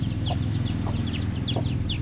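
Chickens and roosters cluck steadily at close range in a farmyard, with short repeated calls over a dense, continuous background of fowl noise.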